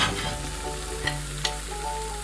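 Fish fries on its second side in oil in a pan, giving a steady, close, crackling sizzle with a few sharper pops and no talk.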